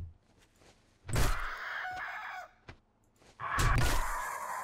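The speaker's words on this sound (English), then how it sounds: "My bastard oversized fucking chicken." An oversized chicken in the video game 7 Days To Die gives two loud, raspy squawking cries, each lasting over a second, separated by a brief pause with a sharp thud.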